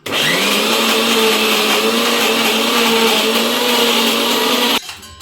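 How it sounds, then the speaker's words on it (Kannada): A mixer grinder whirs loudly and steadily for about five seconds, blending tamarind chutney ingredients with jaggery, then cuts off abruptly near the end. "ಇವಾಗ ಇದನ್ನು ಅಷ್ಟನ್ನು ಸೇರಿಸಿ ಮಿಕ್ಸಿ ಮಾಡೋಣ"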